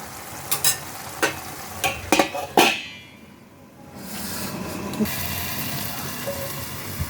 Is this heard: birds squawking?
no